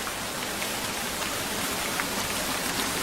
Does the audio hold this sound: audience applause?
no